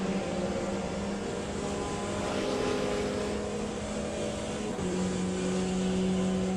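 Porsche hypercars in Le Mans Ultimate drone past, a steady engine tone holding through most of the stretch before one shifts pitch near the end, moderately loud with no voices.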